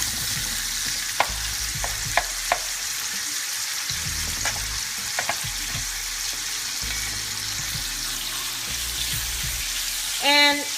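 Collard greens frying in oil in a pot, a steady hiss and sizzle throughout with occasional faint utensil knocks and stirring, ending in a brief scrape.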